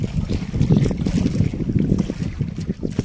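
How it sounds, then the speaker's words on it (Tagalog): Large waves churn and wash against the shore during a typhoon, a continuous, loud rush of water thick with wind buffeting across the microphone, with no talk over it. "malaki yung alon"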